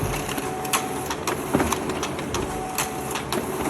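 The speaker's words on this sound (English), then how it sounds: "Now this print started up right away, but sometimes the printer will not start for a few minutes even" An MU printer printing steadily, with its mechanism chattering and whirring in a continuous rhythmic run and small regular clicks, close by and moderately loud with no talk over it.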